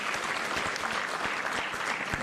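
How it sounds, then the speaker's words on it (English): An audience at a renewable energy conference claps by hand in a continuous, even round of applause, steady and fairly loud throughout with no voices. "Ladies and gentlemen, that deserves a hand clap."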